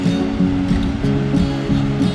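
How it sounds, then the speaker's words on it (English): A small brook flowing into a river, a steady close rush of moving water with no voices, only faint tonal hum beneath. "You got this one little brook or river running into this river."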